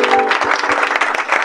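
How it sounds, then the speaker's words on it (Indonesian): Crowd applause at a children's online healing church service, dense steady clapping filling the whole moment at fairly loud level, with no voices standing out. "Berikan tepuk tangan buat Tuhan."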